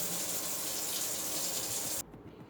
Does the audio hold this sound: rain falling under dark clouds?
no